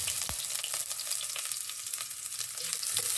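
Garlic and onion fry in hot oil in a pan, giving a loud, steady sizzle close up with a few scraping stirs, and no voices over it.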